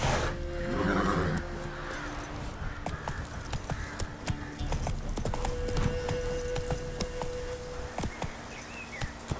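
Roach the horse trots in a fantasy video game, steady clip-clop hoofbeats on the ground near and clear, with faint ambient game sounds underneath and a snort early on.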